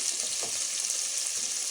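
Boiled macaroni hits a hot sizzling pan, giving a steady, loud frying hiss with faint scraping underneath and no voices.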